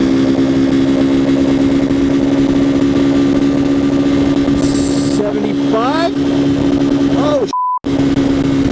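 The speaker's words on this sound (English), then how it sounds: "you can hear the engine just roaring" A CSC TT250 motorcycle runs at top speed, its engine droning loud and steady close to the mic with wind noise, rising briefly in pitch near the end, as a rider speaks a couple of words.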